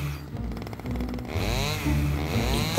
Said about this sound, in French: Un chasseur qui passait par là, attiré par tous ces cris, s'approcha de la maison avec sa tronçonneuse à essence.